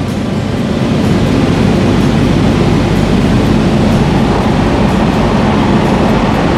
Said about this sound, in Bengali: দরজা বন্ধ হয়ে গেছে, এবার ছাড়বে আমাদের মেট্রো, ছেড়ে দিয়েওছে অলরেডি